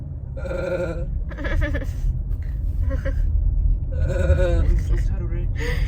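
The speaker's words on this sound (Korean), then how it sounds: "염소 아니냐고." A goat bleats in repeated wavering cries, several calls in a row, heard over a low rumbling background during a weekend trip to Sokcho.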